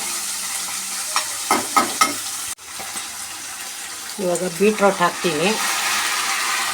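Beetroot tossed into a pan of frying onions, peas and field beans, followed by stirring scrapes and a steady sizzle, with a brief water or tap sound and some nearby voices mixed in.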